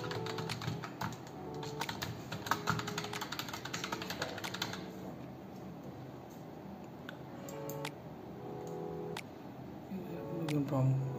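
Keystrokes on a keyboard entering a user ID and password while setting up a network access point, a busy run of clicks early then sparser taps, with a voice talking over it.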